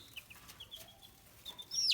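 Baby chicks in a brooder give thin, high peeps, a few scattered calls that end in a sharper, louder cheep, quiet and fairly close with no talking.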